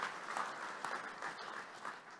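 Audience at a school-partnership talk during a men's Lenten breakfast claps steadily, a dense, fairly faint wash of hands with no lull, heard from within the room.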